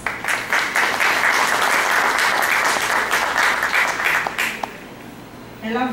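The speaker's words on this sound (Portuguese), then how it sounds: "uma salva de palmas." An audience applauds a professor arriving to give a philosophy lecture, a dense steady clapping that carries on for several seconds, then thins to scattered claps and stops.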